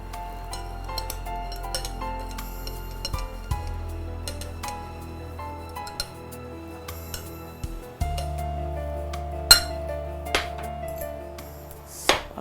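Glassware clinks and pings while a glass is prepared for a mint lemon soda, with scattered sharp taps and ringing tones over a quiet kitchen background.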